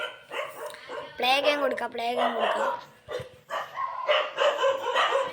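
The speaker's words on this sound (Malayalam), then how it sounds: "ബാക്ക്ഗ്രൗണ്ടിൽ പട്ടി കുരവി നമുക്ക്." A dog barks and whimpers in the background in a series of yelps and barks, fairly close, while someone talks over a mobile shooting game.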